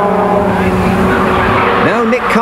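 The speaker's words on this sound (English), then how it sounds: "Now Nick Carr moves up to second place as is spectacularly sliding." Rover GTi race cars racing and sliding on a circuit, engines droning loudly with a sharp rising tire squeal near the end as a car slides, under a commentator's voice.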